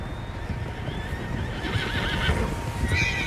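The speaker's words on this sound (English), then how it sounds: "Tracks. Horses, quite a few of them." Several horses in the Red Dead Redemption 2 game whinny and snort over a dense outdoor bed of hooves and ambient noise, with rising neighs toward the end and no speech.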